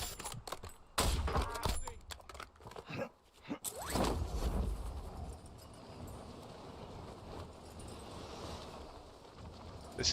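Gunfire in the Warzone video game, shots aimed at a bot: a cluster of sharp bursts over the first few seconds, then a steady rushing wind-like roar of flight.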